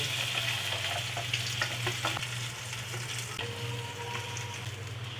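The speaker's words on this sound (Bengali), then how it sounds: "মাছগুলো দিয়ে দিছি। এখন ভালোভাবে ভাজে নিব।" Tilapia fish frying in a pan of hot oil, with a steady crackling sizzle and occasional stirring scrapes throughout, close and continuous with no talking.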